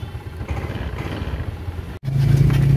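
After its starter motor is repaired, a motorcycle cranks with a light clatter, then cuts out for an instant before the engine catches into a strong, steady idle close by.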